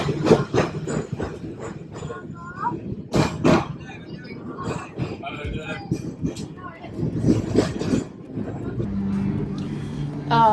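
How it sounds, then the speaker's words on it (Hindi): A tram ride through Milan, with rattling rail and carriage noise rumbling along under frequent nearby speech, plus a cough and shifting clatter as the car moves. "हम ट्राम पे बैठे हैं"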